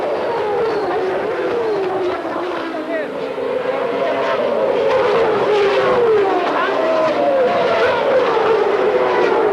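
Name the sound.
Formula One race cars starting, 1994 season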